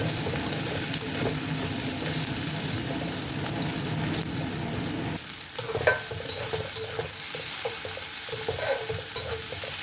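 Dried fish, chopped ginger, onion and garlic frying together in oil give a dense, close sizzle, steady at first, then thinning midway, with intermittent spoon-scraping stirs.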